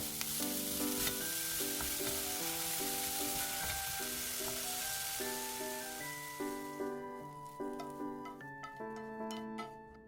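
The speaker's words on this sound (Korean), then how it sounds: "후라이팬에 올리브유 살짝 넣어주시고 달달 볶아서 한 중간 정도만 익게 볶아주세요." Vegetables stir-fry in olive oil in a frying pan, a steady hiss of sizzling beneath a bright melodic music track that dominates as the sizzle fades.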